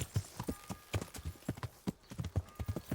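A horse's hooves in Kingdom Come: Deliverance clip-clop steadily in a quick, continuous rhythm of close, distinct hoof strikes, fairly quiet throughout.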